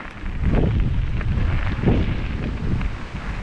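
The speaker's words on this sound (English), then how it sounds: "It is quite windy." Heavy wind buffeting close to the microphone beside a line of telegraph poles along a railway, a loud low rumble with gusts swelling and easing throughout.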